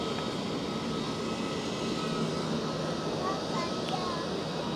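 Turkish Airlines Airbus A320neo jet departing runway 16 at Zurich Airport, a steady distant engine roar across a broad outdoor wash that holds level and continuous throughout.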